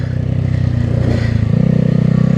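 A Honda Grom on summer tires revs hard in snow for a wheelie, its engine note loud and close, climbing in pitch as the throttle opens and holding a steady drone with some clatter.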